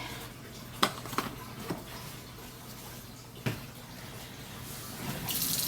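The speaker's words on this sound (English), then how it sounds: "I just put hot water from the tap and put it in the jars" Hot water runs from a kitchen tap into jars for canning stew, a soft steady stream with a few clinks of glass and splashes, fairly quiet and close.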